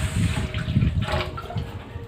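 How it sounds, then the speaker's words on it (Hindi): Water from a glass poured into a cooking pot for dal mash, a steady broadband splashing and gurgling close by that runs the whole stretch with no talk. "सबसे पहले हम पानी डाल रहे हैं तकरीबन 4 गिलास"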